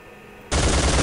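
Gunfire hits window frames in Soldier of Fortune II: a sudden, loud automatic burst that starts after a quiet moment and holds as a dense, continuous rattle to the end.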